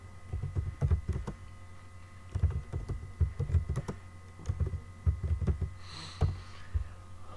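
Someone types on a computer keyboard in quick bursts of key clicks with short pauses between them, close and clear over a low steady hum.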